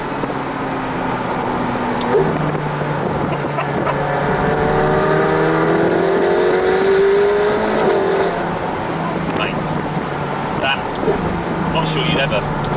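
McLaren 720S engine downshifting, loud and close, with stepped rising and falling tones from the gear changes and a steady rumble underneath, alongside people talking.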